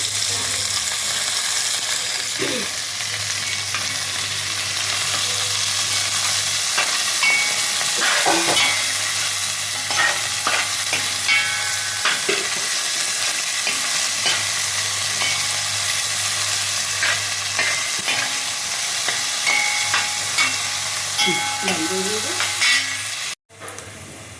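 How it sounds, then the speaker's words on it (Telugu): Fenugreek leaves fry and sizzle steadily in a pan for biryani preparation, with a continuous loud hiss broken by occasional stirring scrapes and clinks, close up and without talk. "ఇదిగోండి, మెంతి కూర అవన్నీ వేగిపోయినాయి"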